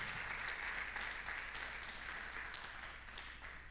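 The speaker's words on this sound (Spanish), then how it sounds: "Dale un aplauso al Señor por la palabra" Congregation applauding during a Sunday worship service in a church, a steady dense wash of clapping that holds evenly throughout at moderate level without any voices.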